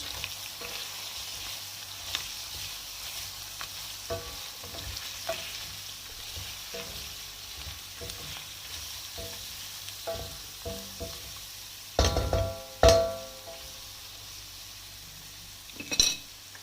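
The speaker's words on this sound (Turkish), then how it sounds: "Bunu da biraz soteliyoruz. Yani kavuruyoruz." Steady sizzling of peppers and tomato paste sautéing in a pan, with occasional scrapes and clinks of a utensil stirring, louder clatters near the end.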